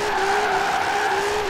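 A car drifting in Forza Horizon 4, driven with a steering wheel, holds one loud, steady tire squeal with a wavering pitch, close up and alone, lasting the whole moment.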